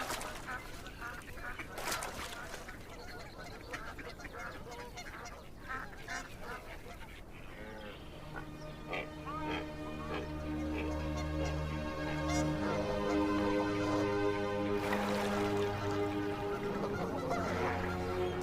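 Canada geese honking in Iowa backwaters during autumn migration, a mix of overlapping calls near and far that swells into a dense, sustained chorus of honks in the second half.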